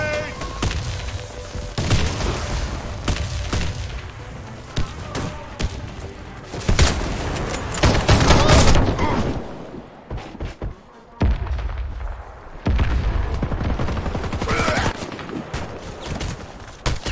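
Grenade blasts and rapid gunfire in a video game command-post defense round, dense loud bursts of shots and heavy booms repeating throughout, with a brief lull in the middle before firing resumes.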